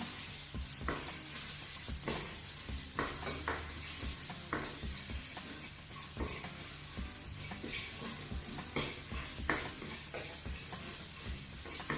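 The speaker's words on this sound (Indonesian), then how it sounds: "Kita tumis ya sampai harum teman-teman" Pork seasoning sautéed in a pan for sweet soy-braised pork, a steady sizzle and fry with repeated scraping stirs at close range, no voices over it.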